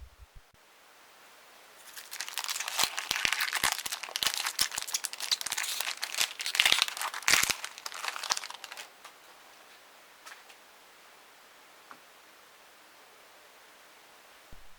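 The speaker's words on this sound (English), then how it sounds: "Let's open the pack up and take a look." A Magic: the Gathering booster pack from the Battle for Zendikar set is torn open and its foil wrapper crinkled for several seconds, a close, crisp crackling and tearing with scattered sharp snaps, then quiet.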